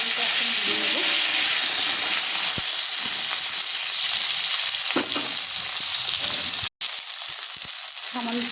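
Potato and pointed gourd sizzle steadily as they fry in a pan, a continuous crackling hiss with occasional stirring clicks and scrapes throughout, close and fairly loud, with no talking.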